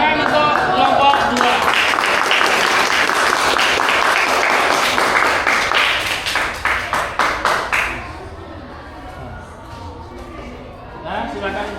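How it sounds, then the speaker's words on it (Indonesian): A classroom audience claps for a presenting group during a teaching performance session, steady applause filling the room for several seconds before thinning into scattered claps and faint murmuring. "Tepuk tangan untuk kelompok 2."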